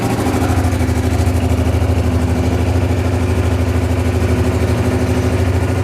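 Honda XRV750 Africa Twin motorcycle engine idling steadily and loud up close, a low rhythmic throb with no one talking, after ten years sitting unused and running low on fuel.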